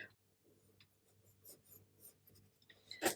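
Pencil scratching and rubbing on paper while drawing with colour or watercolour pencils, in quiet short strokes with a louder rasping scribble near the end, no talking.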